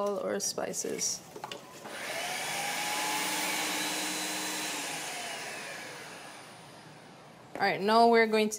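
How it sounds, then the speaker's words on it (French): Electric blender whirring through fresh herbs including chives and chili for a Senegalese dish, a steady motor hum rising and fading over several seconds, with a person speaking before and after. "Il est temps maintenant de mixer nos herbes."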